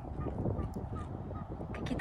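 A flock of dark ducks takes off together on the Polar Urals, a burst of wingbeats and a few honking calls at moderate distance, steady and busy throughout.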